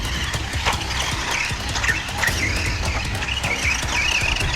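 A Tamiya DT-02 Desert Gator RC buggy fitted with a vintage Mabuchi RX 540SD motor runs laps on a track, a steady high electric whine with scattered gravel crunches and ticks, loud and continuous.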